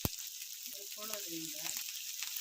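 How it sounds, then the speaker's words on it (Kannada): Onion and garlic frying in oil for rasam produce a soft, constant crackling sizzle, with a short low murmur of voice-like sound partway through. "ಈರುಳ್ಳಿ ಹಾಕಿದ್ದೀನಿ ಬೆಳ್ಳುಳ್ಳಿನ ಚೆನ್ನಾಗಿ ಕಲರ್ ಆಗೋವರೆಗೂ"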